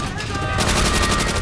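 Rapid automatic fire from a Tommy gun in Call of Duty: World at War, a loud, continuous stream of close gunshots that keeps going without a break.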